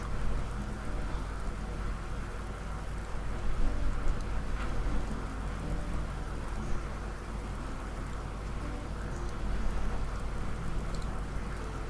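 Steady rain falling in the video game Skyrim, a dense, even hiss with scattered droplet patter, continuous and fairly close throughout, with slight swells in intensity.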